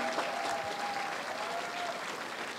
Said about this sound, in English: I think you all deserve a big round of applause here